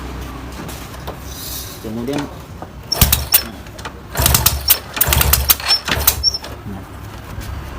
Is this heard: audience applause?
no